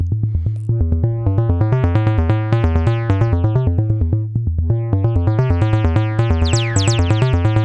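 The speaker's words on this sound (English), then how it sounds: "Soft clipping overdrive for pushing overall amplitude, emphasizing bass and saturating the high frequencies of the input" Synthesizer tone pushed through a soft-clipping overdrive saturation mode on the Steady State Fate module, giving a warm, bass-heavy, buzzy sequence of rapid repeated notes that runs steadily, loud and close, with a brief gap midway.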